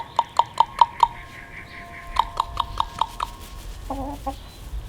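Backyard chickens cluck in a quick run of sharp, loud calls, then a second burst after a short pause, ending with a few softer warbling clucks, with no talk.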